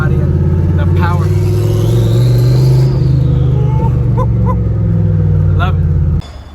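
A Datsun car engine drones loud and close while driving, a thick low rumble with revs swelling and easing before it drops off abruptly near the end.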